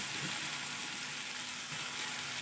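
Green chilli paste sizzles in a pan with drumstick stems, giving a steady, soft hiss of frying with faint stirring scrapes and no voices.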